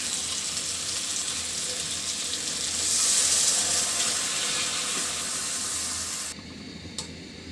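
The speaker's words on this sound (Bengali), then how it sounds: "দিয়ে দিচ্ছি ঝোলের পানিটা।" Water poured into an okra curry frying in hot oil to make broth, a steady rushing pour with sizzling that swells midway, then stops abruptly near the end, leaving a quieter hiss.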